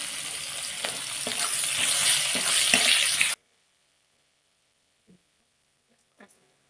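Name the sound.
chopped onions frying in oil in a wok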